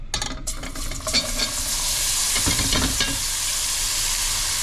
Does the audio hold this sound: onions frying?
yes